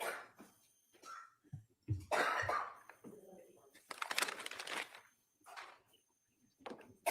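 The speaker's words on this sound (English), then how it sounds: "Somebody coughing their asses off" A few harsh, sputtering coughs in a courtroom during a trial, mixed with bits of speech and shuffling noise between them.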